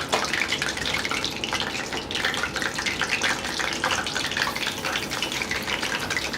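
Whitefish deep-frying in hot oil gives a dense, steady crackling sizzle with fine bubbling, loud and close, continuing without pause and with no talking.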